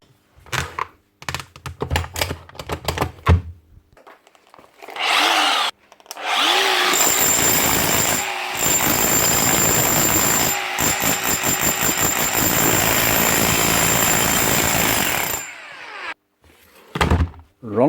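A Makita HR3540C rotary hammer fitted with a new motor runs in a loud, steady burst of about nine seconds, briefly interrupted, after a few short taps and clunks at the start.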